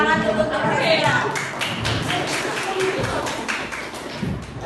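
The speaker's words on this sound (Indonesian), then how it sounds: "Tepuk tangan dulu untuk Gracia." Classroom students clapping for a classmate, a burst of scattered hand claps that continues steadily for a few seconds before tapering off.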